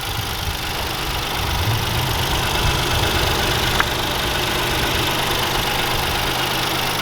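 A 2021 Ford Bronco base model with the small EcoBoost engine runs steadily at idle, a close, even, low rumble with a constant mechanical hum and no voices.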